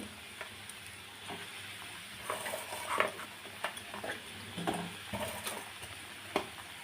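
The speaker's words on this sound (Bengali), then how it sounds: "এবার মাছ ছেড়ে দেবো এক এক করে" Bata fish pieces go one by one into a pan of sizzling spice gravy, a low steady sizzle broken by a series of soft splashes, taps and clinks of utensil on pan, with no talk.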